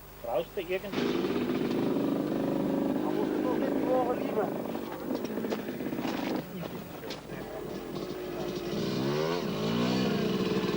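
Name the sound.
enduro motorcycle moving off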